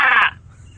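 A human voice imitates a crow's caw, one short harsh rasping call, close and loud, then quiet.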